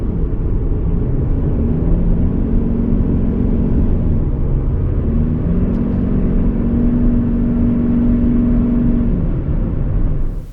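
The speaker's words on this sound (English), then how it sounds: "when you put your foot down to overtake a vehicle or go up a hill, the engine makes so much noise that it sounds as though it's screaming in agony" A 2022 Toyota Highlander Hybrid SUV's engine works hard under acceleration, giving a loud, steady droning roar with whining tones that climb and hold throughout, and no talking.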